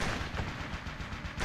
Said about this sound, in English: it looks like Clay finally got the Gatling gun working